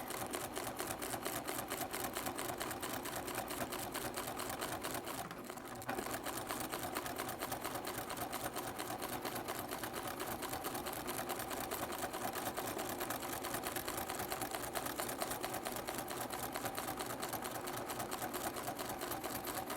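A sewing machine stitching a quilt along perforated marked lines with the needle-down setting, its fast even mechanical chatter running steady and close for the whole stretch with one brief pause.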